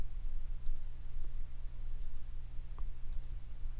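Someone types on a computer keyboard: a few faint, scattered key clicks sit over a steady low electrical hum, with no talking.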